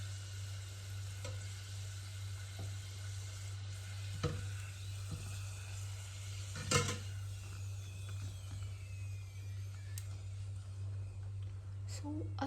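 Karanji pastries frying in hot oil, a soft steady sizzle under a low hum, with a few faint clicks and utensil taps, close but quiet.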